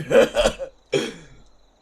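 Two quick rough coughs in succession, then a third harsher cough trailing off, close and fairly loud with no talking.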